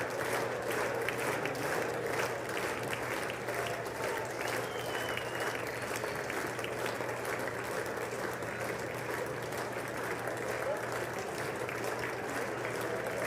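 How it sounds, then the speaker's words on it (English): An audience applauds steadily at a State of the Union address, a dense, continuous wash of clapping that holds at an even level throughout, fairly distant and without any voices on top. "Oh, they're clapping for what?"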